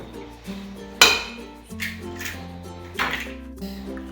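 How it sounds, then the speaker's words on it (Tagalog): Eggs cracked into a bowl of grated carrots for carrot cake: a few sharp taps and knocks against the bowl's edge, spaced out over a few seconds, close and moderately loud with no voices. "biyakin po natin yung ating mga itlog dito sa ating carrots"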